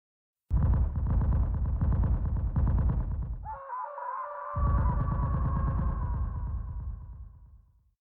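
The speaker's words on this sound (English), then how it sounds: "We have Distant Shooting 1 and 2." Distant gunfire sound effects from a zombie video game map mod play as a rapid burst of booming shots. A brief ringing tonal gap breaks it up, then a second sustained volley follows that dies away into a fading tail.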